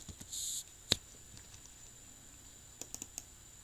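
A computer keyboard is typed on while a formula is entered into an Excel spreadsheet: a few sparse, faint key clicks spread over several seconds in a quiet room, alongside a brief higher-pitched noise near the start.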